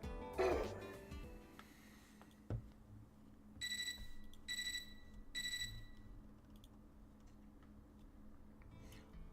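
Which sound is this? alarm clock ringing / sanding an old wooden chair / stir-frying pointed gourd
alarm clock ringing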